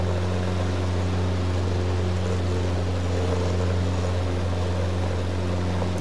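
A light aircraft engine drones steadily through a takeoff run in the X-Plane 12 flight simulator, loud and continuous with a strong low hum and layered tones, no voices.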